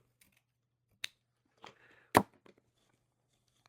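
Scissors cut material for a French market floral arrangement in a quiet room: a few isolated, close snips and clicks, the loudest a single crisp cut near the end, with no talking.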